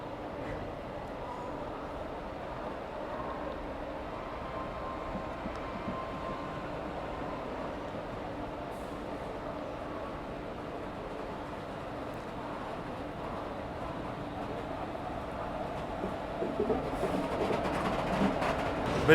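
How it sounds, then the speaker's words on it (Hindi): A train on an Indian Railways station platform, with new 3rd AC economy coaches of a Garib Rath train, is brought in, giving a steady low rumble that grows slightly louder toward the end, with no talking. "चलो फाइनली 10:10 पे ट्रेन जो है वो लगाई जा रही है।"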